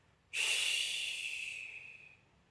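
A single deep diaphragmatic breath, close and breathy, starts abruptly as a strong airy hiss and then slowly fades away over about two seconds.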